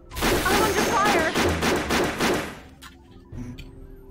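Gunfire in UFO: Afterlight, a rapid burst of repeated shots lasting a couple of seconds, loud and close, followed by quieter scattered sounds and a voice speaking.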